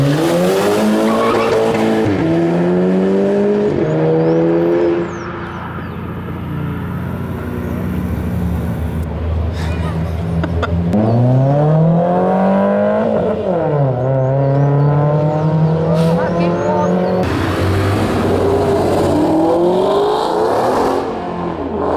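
Race cars in a video game, a Mitsubishi Lancer and a Ferrari, rev hard and accelerate through repeated gear-shift climbs. Tires squeal and skid at times, and the engines stay loud and close throughout.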